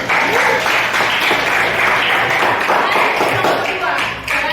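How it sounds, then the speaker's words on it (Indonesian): Classroom applause after a group presentation in a geography teaching practice session, steady dense clapping from many students filling the room for several seconds, with some voices underneath. "berikan dulu tepuk tangan sekian presentasi"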